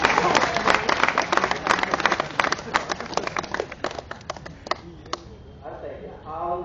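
Audience applause at an Independence Day speech, a dense burst of many hands clapping that thins out toward the end as a voice begins speaking again.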